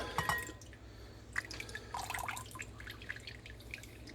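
Whey from homemade mozzarella drips through a colander, a scatter of light, irregular drops and splashes over quiet background hiss.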